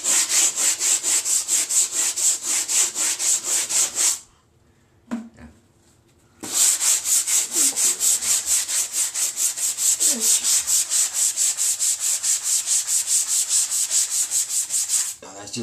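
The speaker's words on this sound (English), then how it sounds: "Then after a little sanding" Sanding block scraping over dried sheetrock mud on a restroom wall, a steady rapid back-and-forth rasp that stops briefly and then resumes, close and loud with no talking.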